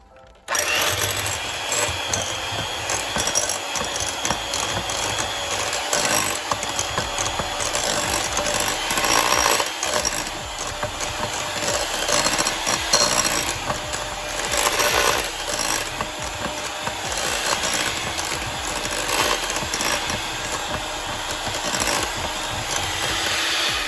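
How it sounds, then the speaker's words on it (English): An electric hand mixer whirs steadily through batter for a holiday recipe, a loud, continuous buzzing drone running nearly the whole time after a brief quiet start. "And then we are going to get our hand mixer and blend."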